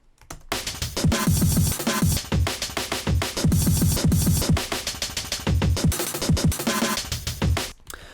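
Two punchy drum breakbeats, programmed in Tidal, trade off in a looping cycle, kicks and snares hitting in a busy, driving rhythm with no pause.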